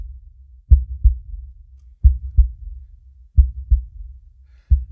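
A synthetic heartbeat sound effect thumps in low, close lub-dub pairs, about four double beats over a few seconds with quiet gaps between, no voices.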